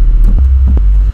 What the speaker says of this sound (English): for your sub bass, I will layer a sine wave underneath